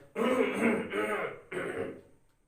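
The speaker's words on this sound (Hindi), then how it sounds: "राम स्वरूप इशारे के लिए खांसते भी हैं" A man clears his throat in a staged Hindi play reading, two rough, close throat-clearing coughs back to back, the first longer, the second after a short pause, alone in a quiet room.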